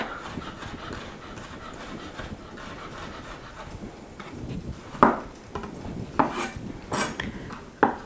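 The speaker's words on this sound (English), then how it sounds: "I'm going to cut through. It's going to take several passes if you're doing this by hand." A knife works through food by hand in a home kitchen, its blade tapping and scraping on a board in a few sharp, irregular knocks over a low rustling background.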